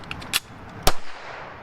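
Reloading a Flux Raider MP17 carbine produces a few quick, sharp metallic clicks and clacks close up, a small rattle first and then one loud snap, with quiet pauses between.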